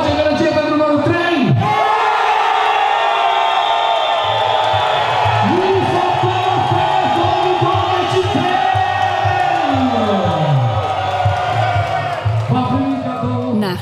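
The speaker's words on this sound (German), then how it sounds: "Das Publikum ist die Jury. Per Applaus wird abgestimmt." A large festival audience at an Oktoberfest beer festival in Transylvania cheers, whoops and shouts in a loud, dense, continuous crowd roar that fills the whole stretch, with rising and falling yells over it.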